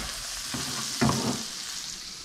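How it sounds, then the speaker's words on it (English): Butter sizzles in a hot frying pan, a steady crackling hiss that swells as the fat melts and spreads. "Sizzle."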